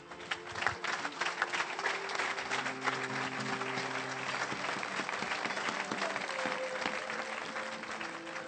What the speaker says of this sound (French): Est-ce qu'on peut l'acclamer vraiment?